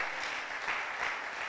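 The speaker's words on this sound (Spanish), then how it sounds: "denle un aplauso fuerte al Señor esta mañana" A church congregation applauds strongly together at a Sunday morning service, a steady dense wash of clapping with two slight swells and no voices standing out.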